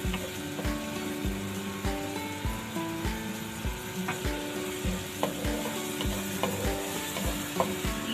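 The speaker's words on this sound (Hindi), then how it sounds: "तो प्याज को अभी बस मैं ऑयल में फ्राई कर लेते हैं।" Onions frying in oil for dum keema, a steady close sizzle running throughout with repeated stirring scrapes and knocks of the spoon in the pan, no voices.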